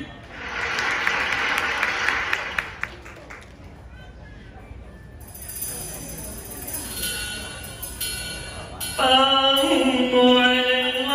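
An audience applauds performers at a singing and impersonation contest, with loud, steady clapping in the opening seconds that fades as music comes in and grows louder.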